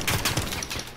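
Shotgun fire in a first-person shooter game, a few loud, close blasts rising from a noisy, busy game mix within one short second.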